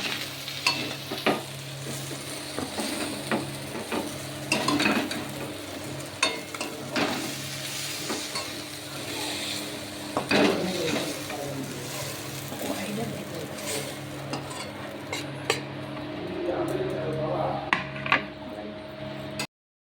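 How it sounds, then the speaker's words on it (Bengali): Fish sizzles in hot oil in a kadai while it is stirred and turned, a steady crackling fry close by with repeated scraping stirs and clinks throughout, and a person talks over it at times. "মাছটা ভালো করে ভেজে নেব"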